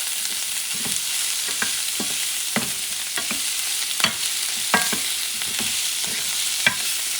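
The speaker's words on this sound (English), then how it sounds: "I'm going to start mixing the salchichon with the sofrito, onions, etc." Salchichon being stirred in a pan with sofrito and onions, sizzling steadily while a spoon scrapes and knocks against the pan in irregular strokes, close and fairly loud.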